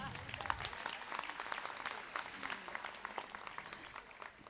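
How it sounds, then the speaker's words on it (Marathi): Hearty applause from a crowd at a diocesan women's gathering in Vasai fills the clip with dense, continuous clapping at moderate distance, while a voice can be heard faintly beneath it. "जोरदार टाळ्या."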